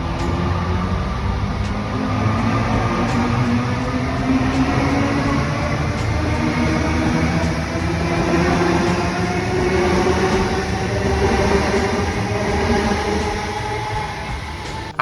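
A new intercity D-set train at a station, heard as a steady, loud low rumble and hum of rolling stock that holds throughout without a break.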